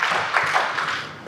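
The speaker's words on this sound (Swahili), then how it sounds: "tuwapigie makofi" A church audience at a closing training session breaks into applause, a dense wash of hand claps with a few sharper accents, steady and fairly loud for about a second.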